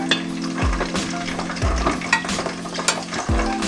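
Food sizzles and crackles steadily in a hot pan while cooking Hispanic dishes, with a utensil clinking and stirring several times, close and alone.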